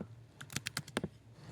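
A short burst of about half a dozen crisp key presses on a computer keyboard while entering an email address, close and fairly quiet, then a moment of stillness.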